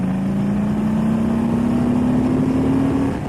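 A motorcycle with a 107 engine accelerates to overtake: a loud, steady engine drone whose pitch climbs gradually over a few seconds, with no voices.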